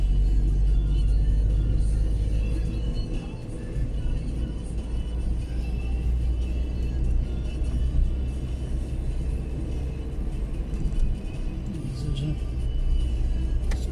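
Cars rolling along a street in Wrocław's Karłowice district on a Sunday morning, a low steady rumble of traffic passing at middle distance, with faint voices in the background.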